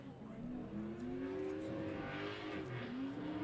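Drift cars battling in a Pro-Am tandem drift competition in Colorado, engines wailing with rising and falling revs at moderate distance, a steady roar with faint tyre noise.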